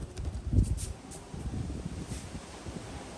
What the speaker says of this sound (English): it is windy out here. Goodness. Look at the trees.